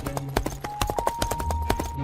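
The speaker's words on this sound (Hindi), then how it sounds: "अगले दिन महाराज घोड़े पर मलकापुर जाते हैं।" Horse hooves clip-clop as a king rides, a steady run of sharp, fairly close hoof strikes on hard ground with little else around them.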